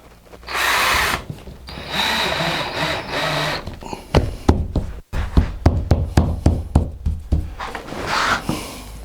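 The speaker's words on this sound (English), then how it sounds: "I've got screws in my drill down here, ready, so I can just pin this." A power drill driving screws to pin a walnut wall panel: a loud whirring run gives way to a series of short, punchy bursts with knocks as each screw bites home, close up and without talk.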